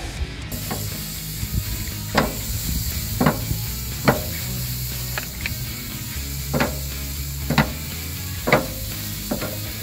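Burgers on a barbecue smoker give a steady low sizzle with repeated sharp clicks and scrapes of a utensil at irregular intervals, close by and without talk.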